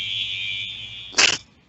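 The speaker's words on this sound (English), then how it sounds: "This alarm's getting closer." An alarm tone sounds steadily and loudly through most of the moment, a high continuous electronic ring with a brief louder burst near the end before it cuts off, no voices.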